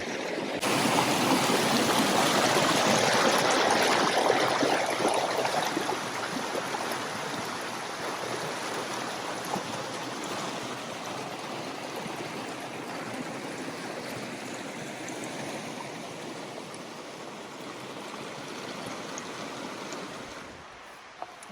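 A small creek at a campsite flowing steadily, a broadband rushing and gurgling that is loudest at first and then settles to an even wash with no voices.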